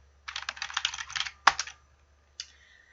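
Keys clatter on a computer keyboard during a word-processor table exercise: a quick run of light taps, one sharper press, then a final lone keystroke, close and clear in a quiet room.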